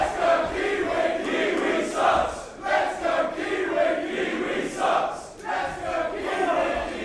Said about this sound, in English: European uppercut by Ricochet as the crowd taunts Travis Banks.